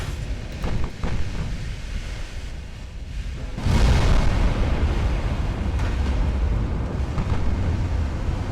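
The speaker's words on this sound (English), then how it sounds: "You can imagine what 20-inch guns up close will do to this guy." Heavy naval gunfire from 20-inch guns in Ultimate Admiral: Dreadnoughts, a deep booming blast near the middle that rolls into a sustained low rumble, with fainter thuds before it.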